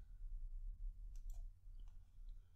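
A single soft computer mouse click, faint and close, over quiet room noise.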